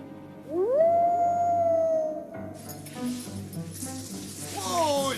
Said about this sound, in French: Ouais, je connais ce hurlement.